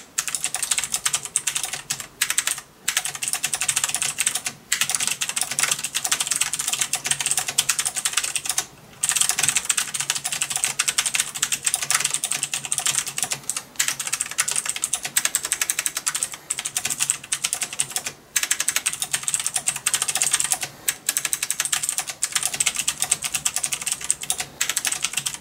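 Rapid, steady typing on a mechanical keyboard with blue switches, a dense run of crisp clicks with a few brief pauses, close and loud with no voices.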